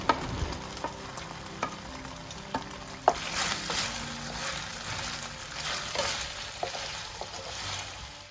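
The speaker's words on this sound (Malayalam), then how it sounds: "ഇനി ഇതിലേക്ക് നമ്മൾ ഫ്രൈ ചെയ്ത് വെച്ച ചിക്കൻ ചേർത്ത് കൊടുക്കാം. എന്നിട്ട് നന്നായിട്ട് മിക്സ് ചെയ്യാം." Fried chicken tossed with chilli flakes in a hot pan gives a steady sizzle, with spatula scrapes and knocks in an uneven rhythm close by and no talking.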